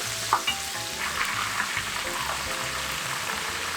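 Steady crackling sizzle of a whole rockfish deep-frying in hot oil, continuous and fairly close, with a few faint clinks near the start and no talking.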